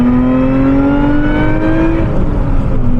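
A 2024 Lotus Emira engine pulls hard, its droning note climbing steadily in pitch, briefly dropping at a gear change, then rising again, loud and continuous from inside the car.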